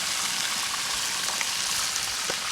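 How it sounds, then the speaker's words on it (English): Wild-caught shrimp sizzle in mushroom butter in a hot pan at an Adirondack campsite, a steady, loud, close frying hiss with faint crackles and no talking. "Get those shrimp tossed right in that butter from the mushrooms."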